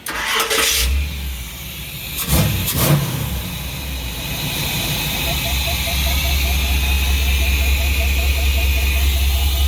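An old motorhome engine fitted with a Quadrajet carburetor starts with a couple of sharp bursts, then settles into a loud, steady running drone on a test drive, with a voice briefly heard.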